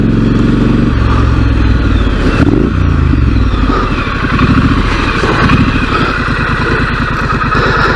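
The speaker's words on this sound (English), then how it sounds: "we're heading out today on the 2018 model Triumph Street Scrambler" A 2018 Triumph Street Scrambler motorcycle heads out on a ride, its engine loud and close with a steady throaty drone, a blip of revs midway and rhythmic mechanical clatter as it pulls away.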